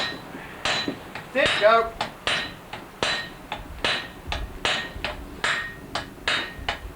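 A blacksmith fullers hot steel with hand hammers, a steady run of sharp, ringing metallic strikes, roughly two per second and close by, with a brief spoken call partway through.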